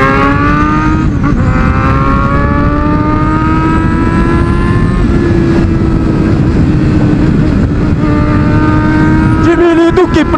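A motorcycle engine revs loudly and continuously at close range, its pitch climbing and holding steady throughout with no break.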